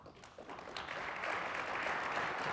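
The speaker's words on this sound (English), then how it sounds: "I don't know if these people are clapping" Audience applause at the TiEcon 2019 grand keynote, a broad steady wash of clapping that swells after the first second and holds at a moderate level, heard from within a large hall without any talking.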